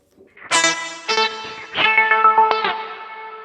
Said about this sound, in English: And we have a reverb.